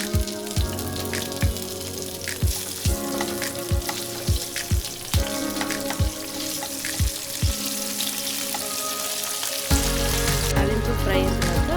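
Tempering seeds, curry leaves and dried red chillies frying in hot oil, a dense crackling sizzle broken by a string of sharp pops and spatters, close and steady, with the hiss swelling near the end.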